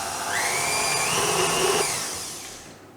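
An electric stand mixer with a paddle beating a thick raspberry almond cake batter, a loud steady motor whine that ramps up, holds, then winds down over a few seconds, with no talking.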